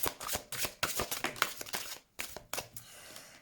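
Tarot cards shuffled by hand for a reading, several quick riffling bursts of papery flutter and slaps close up, with a short pause midway.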